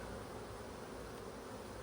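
Honeybees in an open hive, a dense, even buzzing of many insects, faint and continuous with no voices.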